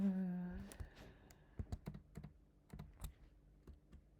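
Keys clatter on a computer keyboard in quick, uneven taps, close and fairly quiet, with a brief tone at the start.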